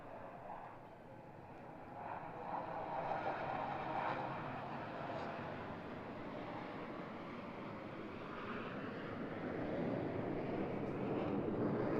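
Jet aircraft at an airshow over Pensacola Beach, flying a carrier landing approach with gear and tail hook down, give a steady, broad roar that holds loud and continuous throughout.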